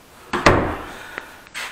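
A door opening while someone steps through it in a basement during a renovation: a wooden thump and scrape with a couple of knocks, then a faint later knock and rustle, close by with no talk.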